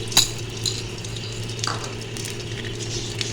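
Gond (edible gum) frying in desi ghee over a high flame while being stirred, a soft steady sizzle under a low hum, broken by a couple of light metallic utensil clinks.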